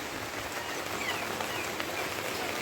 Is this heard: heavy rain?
yes